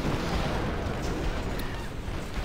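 Cannon fire in Plunder Pirates, a dense rumbling roar of blasts that stays loud and continuous throughout.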